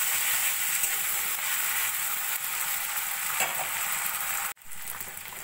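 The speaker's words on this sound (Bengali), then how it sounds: "আদা রসুন বাটাটাও একটু ভাজা ভাজা করে নেব।" Ginger-garlic paste fries in a pan with onions for a Bengali mourola fish curry. A close, even sizzle hisses steadily, then a brief sharp break near the end, and no one speaks.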